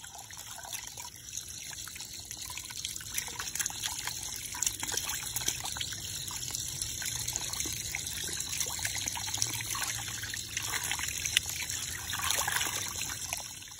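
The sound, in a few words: wringing water out of tie-dyed fabric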